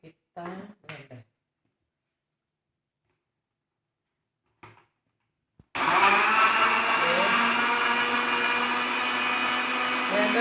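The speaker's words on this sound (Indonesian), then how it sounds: "Masukkan ke dalam air ini untuk kita blender." Someone speaks briefly in a quiet kitchen before a blender kicks on, blending coconut water with tempe for a pudding; it runs with a loud, steady whirring roar until the end.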